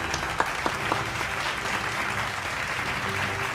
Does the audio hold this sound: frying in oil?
no